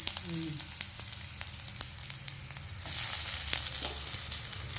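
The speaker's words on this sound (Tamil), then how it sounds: "இஞ்சி பூண்டை நல்லா வதக்கணும்" Ginger and garlic fry in hot oil with mustard seeds, giving a close crackling sizzle with scattered pops that swells sharply louder partway through and stays intense.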